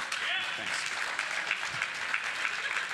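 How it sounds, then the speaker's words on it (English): Audience applause at the 2014 OVNATAS Emmy Awards ceremony, a steady wash of clapping from a crowd filling the room for about three seconds at an even level. "I have a feeling you're applauding not for me, but for me leaving"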